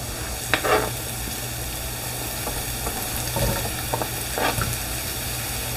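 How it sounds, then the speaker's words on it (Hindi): Onions added to crushed garlic and sautéed in a pan for shakshuka, giving a steady close sizzle with a few scraping stirs, quiet and without talk. "क्रश गार्लिक को मैंने सौते कर लिया है और अब मैं इसमें प्याज डाल लूंगी"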